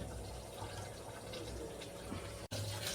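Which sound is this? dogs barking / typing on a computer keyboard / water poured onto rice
water poured onto rice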